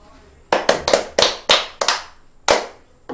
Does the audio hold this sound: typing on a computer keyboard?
no